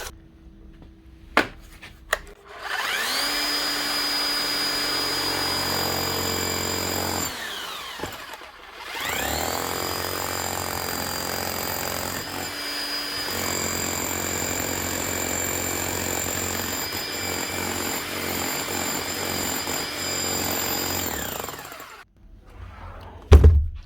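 A repaired Bosch rotary hammer drill runs in hammer mode in two long bursts separated by a brief stop, giving a loud, harsh, rattling drone close by, with clicks at the start and a clunk at the end.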